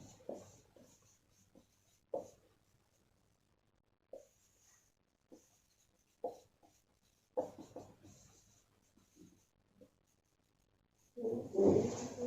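Pen strokes writing out an equilibrium chemistry solution, a series of faint, short scratchy bursts spaced irregularly, with a louder rubbing stretch near the end.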